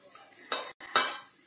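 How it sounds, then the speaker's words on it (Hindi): Mint and coriander leaves go into a mixer jar during chutney prep for chicken kebabs: two short, moderately loud rustling clatters about half a second apart in a quiet kitchen. "मिक्सी जार ले लिया है, इसमें पुदीना पत्ता और धनिया का पत्ता डाल रही हूँ"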